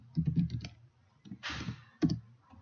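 Computer keyboard keys clicked close up in short clusters of quick taps, with pauses between bursts and one longer noisy swipe in the middle.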